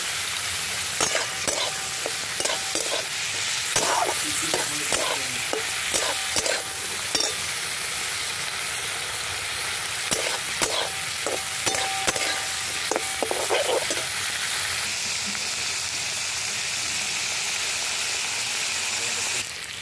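Moong dal sizzles steadily with salt and a pinch of turmeric in a pan, a constant bright hiss throughout, broken by repeated scraping stirs that come in clustered strokes before the frying settles into plain sizzle.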